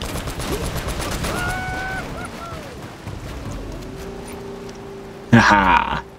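Video game gunfire and explosions from Uncharted: Drake's Fortune: rattling shots under a vehicle's engine hum, then a sudden loud burst near the end, with a player talking over the action.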